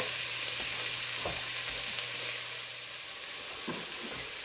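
Mirepoix, garlic, spices and tomato paste fry in a pan with a dense, even, close hiss. A couple of soft stirring knocks sound underneath, with no speech.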